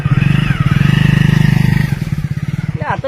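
A motorcycle engine runs close by with a steady, throbbing putter for about two seconds, then drops into an uneven, chugging idle.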